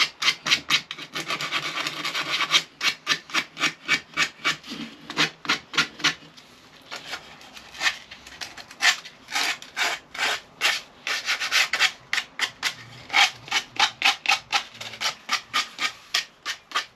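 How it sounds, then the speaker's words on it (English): Sandpaper rubbing over the wooden headstock of an SG-style guitar kit neck, a steady run of quick back-and-forth strokes, close and fairly loud, with a short pause partway through and no talking. "Just needs a bit of refining with sandpaper."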